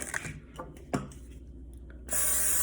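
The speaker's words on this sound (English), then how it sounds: "A little spray helps." A brief hiss of cooking spray into a mug starts near the end and holds steady, following some soft handling and clinking sounds close by.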